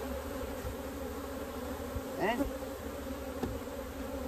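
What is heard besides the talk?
honey bees buzzing around hive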